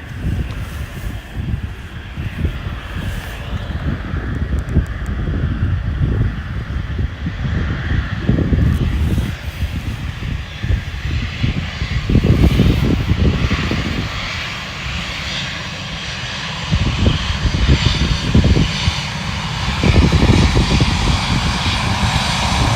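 A KLM airliner passes at Bristol Airport, its engines a loud, steady roar with rumbling low end that swells and fades slightly as it goes by, with wind buffeting and no talk over it.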